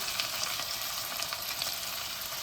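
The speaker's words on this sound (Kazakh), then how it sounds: "Міне қазан қақпағын ашып қуырылып жатыр." Steady, close sizzling of soup ingredients frying in hot oil in an uncovered pot, a continuous crackling hiss with no voices.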